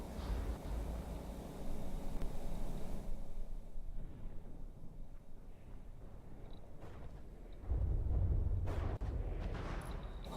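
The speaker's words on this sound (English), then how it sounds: "Whole lot of explosions there, which is nice to see." Explosions from warships in the naval combat game From the Depths, low rumbling booms with dense low-end roar that fades into a quieter crackle before a fresh heavy burst swells near the end.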